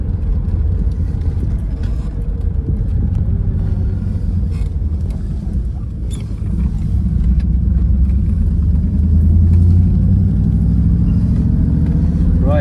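A Triumph Stag drives along a road, its engine a steady loud rumble with tyre and road noise throughout, rising slightly in the second half as it picks up speed.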